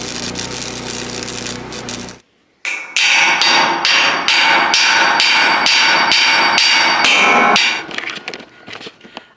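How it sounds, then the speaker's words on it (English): A hammer strikes fresh welds on metal in a fast, loud, ringing series of about a dozen evenly spaced blows after an initial burst of noise and a brief pause, then tapers off with a few lighter hits. "when you just like finish welding, then with a hammer you hit it"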